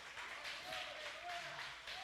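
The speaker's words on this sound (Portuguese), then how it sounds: "Aplauda o Senhor Jesus, que Ele merece, bem forte." Church congregation at a worship celebration applauds steadily, a soft continuous wash of many hands heard from a distance, with a faint sung or sustained voice line running through it.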